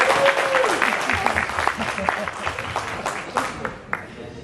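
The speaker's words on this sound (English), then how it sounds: "clap for that one" Audience applause breaks out at a talk on training versus teaching, a dense burst of many hands clapping with scattered louder claps, under a brief tone at the start and fading slightly toward the end.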